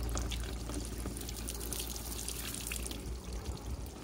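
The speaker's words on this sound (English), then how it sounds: "The water is just running off the paintwork still." Water pours and trickles off a car's ceramic-coated paintwork outdoors, a continuous splashing stream that stays fairly loud and steady throughout.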